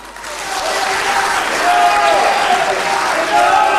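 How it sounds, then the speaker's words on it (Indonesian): Studio audience applauding at a televised candidate debate, a loud, sustained crowd clapping that swells and holds, with faint tonal sounds and voices mixed underneath. "kita semua tepuk tangan untuk Provinsi Aceh malam hari ini"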